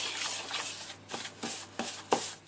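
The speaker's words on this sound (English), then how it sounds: "you're just going to mix these all together until it gets a little bit pasty" Shredded coconut gets stirred into melted butter or coconut oil for a paleo French apple pie bread topping, with soft scraping and rubbing strokes in a quiet, irregular rhythm of roughly six pulses.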